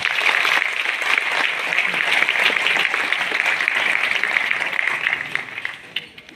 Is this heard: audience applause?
yes